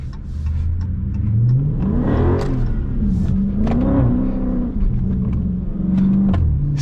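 A Dodge Scat Pack revs loudly on a wet road in the rain, the engine note climbing and dipping through repeated throttle blips as the car slides, with tire and spray noise beneath.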